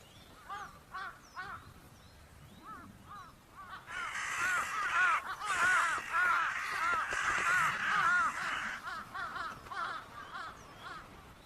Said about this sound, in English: Jungle crows are usually first to a victim of the cold, but their noisy squabbling is a dead giveaway to one so cunning.